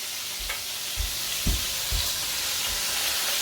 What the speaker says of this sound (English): Let it sizzle for a little bit.